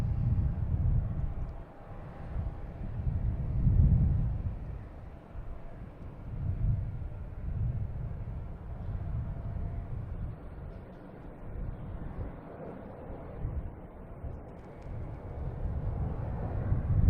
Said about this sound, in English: we have American Airlines taking off here